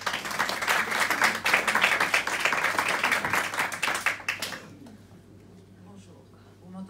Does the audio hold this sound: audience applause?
yes